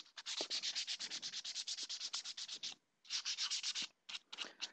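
Sandpaper rubbed by hand across a PVC armor plate, a fast run of rhythmic rasping strokes, a brief pause, then more quick scrubbing strokes, close and crisp.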